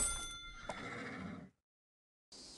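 A horse in the Barbie's Dreamhouse stables video game gives one loud, clear whinny with a hint of hoof clops, then silence, before a soft game sound starts.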